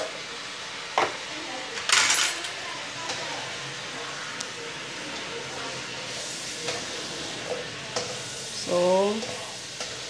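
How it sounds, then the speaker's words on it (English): Sesame chicken sizzling and frying in a pan while being stirred, with scraping clinks of the utensil against the pan and a brief spoken word over the steady hiss. "we are going to stir so that the seasoning will be absorbed."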